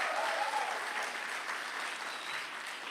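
An audience at a church service claps steadily in a sustained round of applause, even and moderately loud with no break, heard alone without talk.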